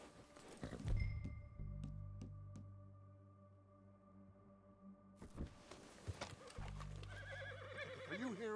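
Horse in the video game Red Dead Redemption 2, a loud whinny near the start followed by snorting, then another neigh and clip-clopping hooves toward the end, no speech.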